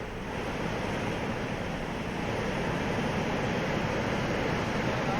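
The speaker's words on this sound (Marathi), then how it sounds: "नगर जिल्ह्यातल्या मुळा धरणाच्या सगळ्या दरवाजांमधून सध्या पाण्याचा विसर्ग सुरू आहे" Water pours out through all the opened gates of the Mula dam in Nagar district, a constant loud roaring rush with no pauses, heavy and broad like surf, with some wind noise on the microphone.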